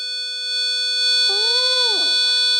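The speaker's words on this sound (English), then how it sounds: "Yep, that can get pretty loud, and I think that the 10K resistor is a good one to use here." A loud, steady 500 Hz tone blares from the speaker of an AA battery amplifier circuit using a 10K resistor, holding constant throughout while a brief warbling sweep passes over it near the middle.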